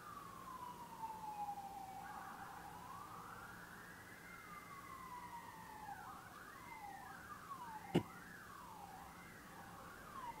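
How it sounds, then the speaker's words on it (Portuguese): Ambulance siren passing outside a classroom, a clear wailing tone that starts as a falling sweep and then settles into repeated rising and falling cycles at moderate distance, with a single sharp knock partway through and no talking. "Tá passando a ambulância."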